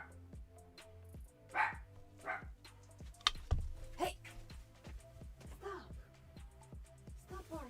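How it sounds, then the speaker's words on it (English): Several dogs bark in a home during a paint-pouring session on wooden boxes, giving repeated sharp barks and yips in uneven bursts that are fairly close and loud, while a person speaks between them. "Bunch of dogs."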